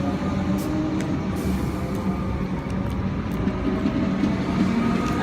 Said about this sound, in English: Comex Alstom set now departing Aircraft with